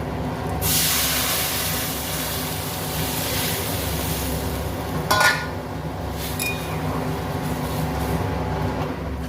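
Dal lentils tipped into a pot with salt and turmeric for a raw mango sour dal, a sudden loud hiss as they go in, then steady cooking noise and one sharp metallic clink midway.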